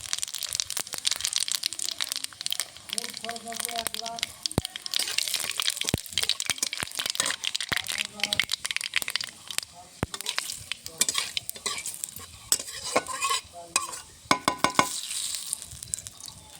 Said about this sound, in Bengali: কড়াইতে সর্ষের তেল দিয়ে দিয়েছি, ফোড়নে দিয়ে দেবো তেজপাতা, শুকনো লঙ্কা, গোটা পাঁচফোড়ন।